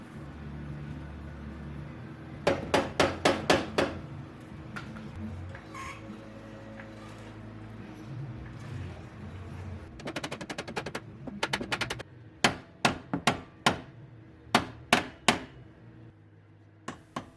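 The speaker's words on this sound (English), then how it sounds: "Position the ball joint into the steering knuckle. You may have to move the jack up and down to find the sweet spot. A plastic mallet is great for persuasion." A plastic mallet hammers a ball joint into the steering knuckle of a 1998 Ford Explorer, sharp close knocks arriving in quick bursts of several strikes, separated by quieter pauses, without talk.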